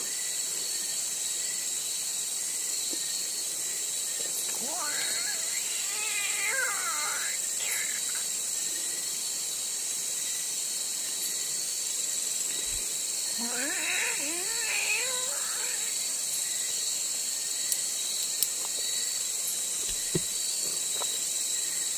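A cat meows a couple of times, drawn-out and wavering, against a steady hiss of insect-like background noise.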